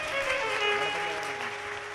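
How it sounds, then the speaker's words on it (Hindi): A crowd at a live Shiv Mahapuran katha applauds to welcome the deities Riddhi and Siddhi, dense continuous clapping with a sustained tonal musical drone running underneath. "जोरदार ताली बजाकर स्वागत करिए"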